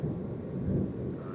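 Deep, steady thunder rumbles under a dark, overcast sky as a storm builds before heavy rain, a continuous low roll with no voices present.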